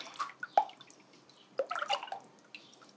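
Homemade blackberry passion fruit kombucha mix being stirred, with a few scattered liquid drips and light clinks in a quiet room, arriving in two short bursts.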